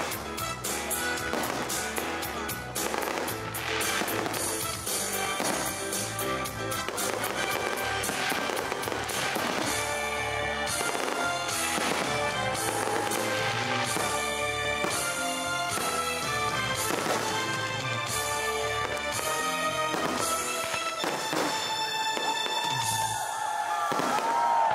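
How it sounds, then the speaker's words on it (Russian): A dense, continuous barrage of festival fireworks bursts and crackles in Murom, Russia, loud and sustained throughout, with many overlapping pops and booms. "Ярким завершением стал праздничный салют."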